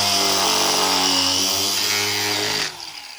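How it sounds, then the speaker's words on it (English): An angle grinder whines steadily and loud while cutting open a small capacitor, the motor's harmonic drone holding for about two and a half seconds before abruptly dropping off as the cut ends. "So let's get my angle grinder here."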